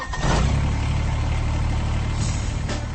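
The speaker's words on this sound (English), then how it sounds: "That's the sound of a Kubota BX Series," A Kubota BX Series subcompact tractor's small diesel engine idles steadily with a low, even chugging hum, close by and alone.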